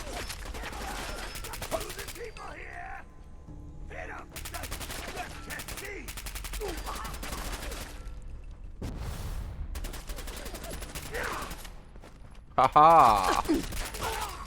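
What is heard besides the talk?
gunfire from the video game Fallout 4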